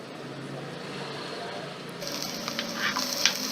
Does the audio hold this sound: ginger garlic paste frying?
yes